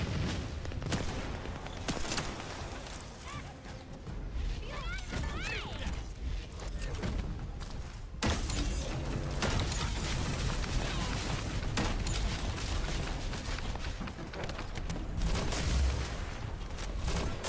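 Rifle fire and mechanical clanks in the video game The Descendant, dense bursts of shots and booms layered over a continuous loud mix with no talk.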